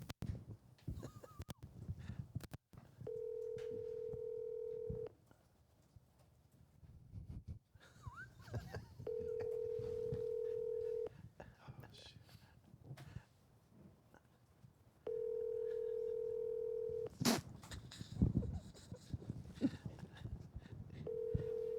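A phone call on speakerphone: quick keypad dial tones, then several evenly spaced ringback tones separated by pauses, with muffled voices and handling noise in between.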